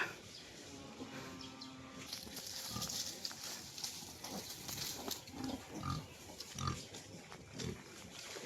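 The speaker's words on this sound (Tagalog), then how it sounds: "May baboy po ditong alaga." Low pig grunts sound intermittently amid outdoor farm ambience with birds chirping, fairly close but not loud, with no one speaking, near Palakpakin Lake in the Philippines.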